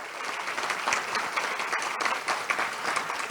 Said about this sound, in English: Let's all give Molly one big round of applause.